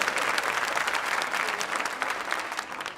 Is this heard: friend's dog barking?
no